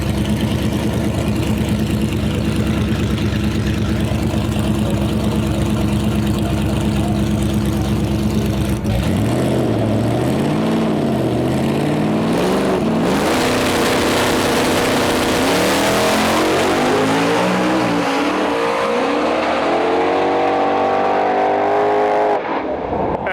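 A Performance Plus Mustang drag car at a no-prep drag race idles with a loud, lumpy rumble, then launches hard into a roaring run, with revs sweeping up through several gear changes before fading.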